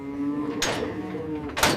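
Beef cattle on a large-scale US farm give a low, drawn-out moo, close and loud, with a couple of sharp clanks or bumps breaking in over it.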